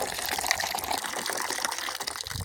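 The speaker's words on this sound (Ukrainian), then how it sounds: "Отак відкриваєте кран, водичка тече." An outdoor water tap in a yard runs with a steady, close hiss of flowing water, fairly loud and with no talk over it.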